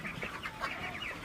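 Broiler chickens on a small farm give soft, faint clucks and chirps in a short burst of overlapping calls.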